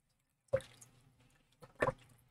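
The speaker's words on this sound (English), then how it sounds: "I'm just going to rinse all of that etching cream off" Water rinses etching cream off glass bakeware in two short splashy, squishing bursts with a dripping trail between them, close and fairly quiet.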